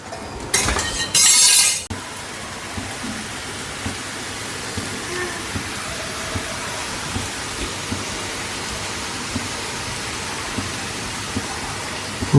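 Rain pours outside a home kitchen as a dish is fried in oil. A steady, soft hiss continues throughout, with one loud burst of noise near the start and faint scattered ticks.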